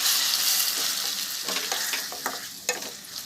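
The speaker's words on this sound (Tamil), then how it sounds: "தக்காளி நல்லா வதங்குற வரைக்கும் வெயிட் பண்ணுவோம்." Tomatoes sautéing in a pan with onions for a South Indian fish curry, giving a steady close sizzle with a few scraping stirs of a utensil and no talking.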